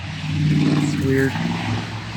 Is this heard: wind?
no